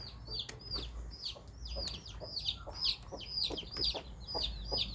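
A brooding hen, kept on a clutch of eggs with Giriraja chicks nearby, clucks in quick, repeated calls that run in a steady rhythm throughout, fairly close and moderately loud, with faint background noise and no speech.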